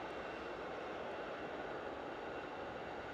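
A jet airliner taxies past a plane-spotting position in evening sunshine, making a steady, broad engine roar and whine that holds constant with no voices over it.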